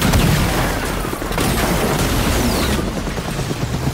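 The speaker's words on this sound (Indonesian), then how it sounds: "terlihatlah ledakan nuklir yang menyerang dan menghancurkan kota Las Vegas" Massive nuclear blast tearing through Las Vegas with a helicopter losing control in the shockwave, a dense continuous roar of rumbling booms and crackling debris, loud and sustained throughout with no clear pauses.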